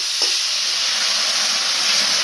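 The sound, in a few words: ginger-garlic paste and ground spices frying in a pan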